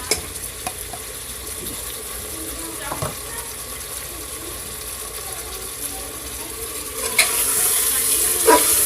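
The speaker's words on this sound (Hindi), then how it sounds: "ये देखें, ये गोश्त भुन रहा है अदरक लहसुन में।" Meat frying in ginger garlic paste with fried onions in a pot, stirred now and then, giving a soft, steady sizzle with occasional scraping clinks of the spoon, louder toward the end.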